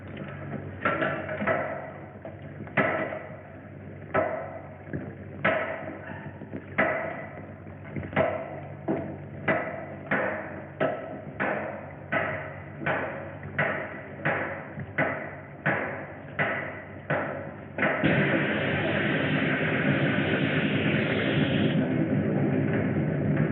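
Two hammers break into a wall in a 1951 film scene, a long run of sharp, loud, evenly spaced impacts, then a steady rushing burst like water pouring through at the end.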